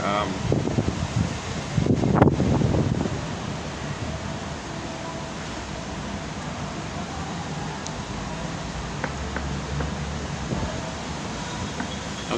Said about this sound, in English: I got some wind buffering here.